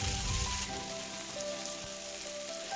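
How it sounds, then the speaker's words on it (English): Onion, carrot, tomato and capsicum sauteing in a pan: a steady, soft sizzle with light crackling, close but quiet, and no voices. "Saute them well together."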